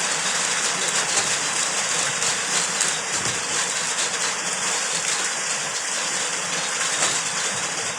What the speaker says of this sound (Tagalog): Maingay yung ulan.